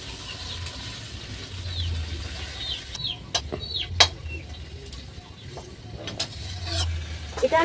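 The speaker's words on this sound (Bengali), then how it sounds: "এরপর আমি ভালো করে নাড়িয়ে চাড়িয়ে নেব।" A spoon scrapes and taps in a pan while a cooking mixture for doi bora chutney is stirred, soft sizzling underneath and a few sharp clicks of utensil on metal, close and moderately quiet.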